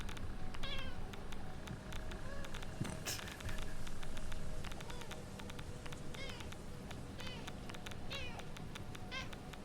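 A loud cat meowing repeatedly in short rising calls over steady background game noise and chatter, the meows standing out clearly against the mix.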